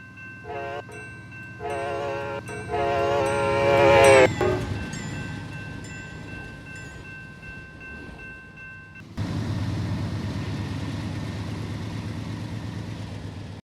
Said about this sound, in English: There's an Amtrak heading towards us.